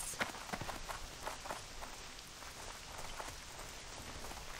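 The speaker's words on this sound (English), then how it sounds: "This rain's making me feel colder" Rain in World of Warcraft Classic, in the Redridge Mountains zone, a soft, steady patter of drops with scattered sharper ticks, quiet and continuous.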